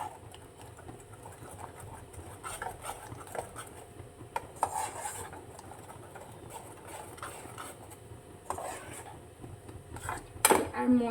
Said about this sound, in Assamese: মই এইখিনি পূৰা লৰাই পূৰা ডাঠ হোৱালৈকে সিজাম।